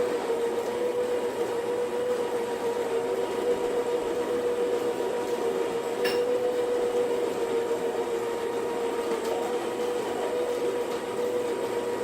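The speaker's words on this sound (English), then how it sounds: "Coffee in here. Let's grind this up." A Victor and Victoria coffee grinder grinds coffee beans in a steady, close motor whine that holds at an even pitch for the whole stretch.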